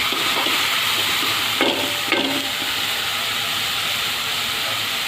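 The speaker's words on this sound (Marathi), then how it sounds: "थोडासा नरम होईल एवढाच भाजायचं आहे" Onions frying in a pan for anda bhurji give a steady close sizzle and hiss, with a couple of brief spatula stirs partway through and no voices.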